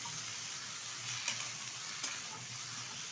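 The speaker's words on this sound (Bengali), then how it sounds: "এবার সবজিটা ভালোভাবে নেড়ে চেড়ে আমি ভেজে নেবো" Vegetables sizzle steadily in a frying pan as a hot continuous hiss, with two brief scraping stirs of a spatula standing out near the middle and end; no voices.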